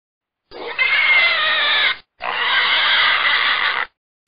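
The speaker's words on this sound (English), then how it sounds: "Pig." A pig squeals in two long, shrill, harsh bursts separated by a brief gap, loud and close, with no other sounds.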